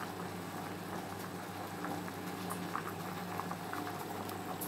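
White rice boiling in a pot for Arabic-style rice, a steady close bubbling and popping of the simmering water, heard alone without talk.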